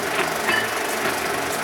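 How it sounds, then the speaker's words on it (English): A large underwater suction device resembling a king-sized vacuum cleaner clears sediment from the ocean floor to expose bedrock during a geological survey, giving a steady, loud mechanical droning hum with no pauses. "A device looking like a king-sized vacuum cleaner exposes the secrets of bedrock."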